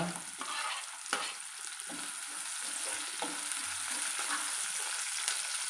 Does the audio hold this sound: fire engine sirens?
no